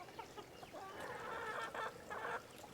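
Pheasant chicks, with a few quail, cheeping and peeping in a brooder, a faint busy chatter of high chirps that thickens toward the end.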